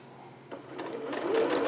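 A sewing machine stitches fabric along a seam, starting quietly and building into a steady close mechanical whir of rapid stitches.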